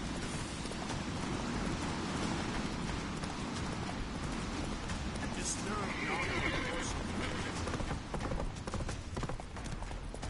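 In a PS4 action game a horse whinnies loudly while its hooves clip-clop in a steady galloping rhythm, with dense game ambience and voices talking over it.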